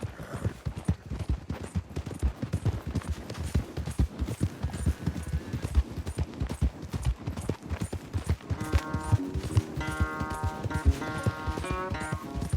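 Horses galloping hard in a race in the Red Dead Redemption 2 video game, a fast, steady drumming of hooves close by with music layered in during the later part.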